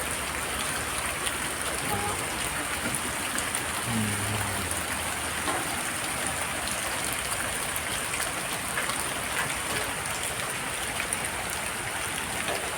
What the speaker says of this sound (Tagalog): Ay, ulan, basa, madulas ang lupa.